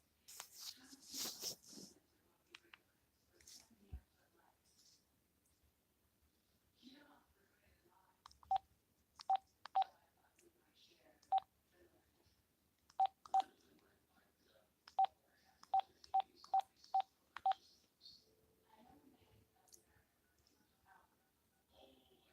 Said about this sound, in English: It's a possibility that I may have to dial this number.